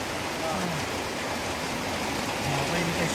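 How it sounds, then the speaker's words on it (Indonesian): Heavy rain pouring down steadily during a funeral at a Toraja tongkonan in Tella Tondon, a dense broadband hiss throughout with faint low voices murmuring underneath. "Ini pas pemakaman hujan deras."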